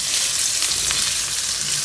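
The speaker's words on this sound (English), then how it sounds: "onion, and we're gonna caramelize it" Onion caramelizing in a pan for a chickpea curry gives a loud, continuous close sizzle and crackle, with no talking.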